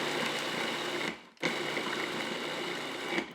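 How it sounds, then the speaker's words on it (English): A food processor pulses through cilantro in two loud bursts of whirring motor and chopping, the first about a second long, then a brief pause before a longer, steady run close by, with no talking. "So now I am going to pulse this and start chopping this up a bit."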